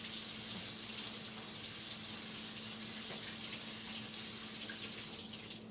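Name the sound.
rinsing canned chickpeas under running water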